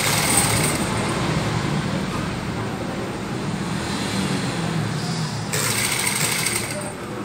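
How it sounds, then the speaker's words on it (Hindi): A sewing machine stitches cloth in a steady rapid rattle that runs throughout, close and loud, with brief bursts of higher whirring near the start and end and someone speaking now and then underneath. "ये साइड का एकदम धीरे धीरे करके सिलते जाएं"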